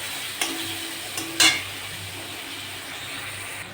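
Tomatoes and spices sautéed in a pan for a jackfruit and potato curry, with a steady soft sizzle and a few scraping stirs of a spoon against the pan, close and moderately loud.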